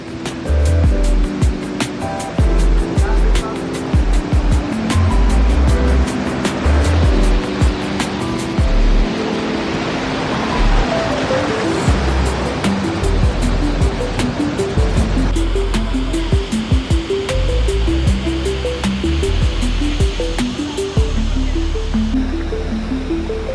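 Rushing water at a waterfall in Cebu, a loud, steady broadband roar of falling water that continues throughout with no voices.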